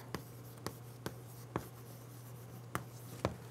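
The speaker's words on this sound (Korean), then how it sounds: "제가 요거 예문을 한번 써볼게요" Chalk or marker strikes against a board as an example sentence is written, six short sharp taps spaced about half a second apart over a low steady hum in a quiet room.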